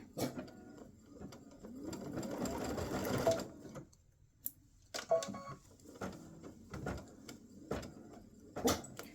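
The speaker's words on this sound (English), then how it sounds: "we're going to stitch the center" An embroidery machine stitching the center of a Christmas bow earring runs in a quick mechanical burst, then stops and restarts with short intermittent clattering bursts, fairly quiet in a room.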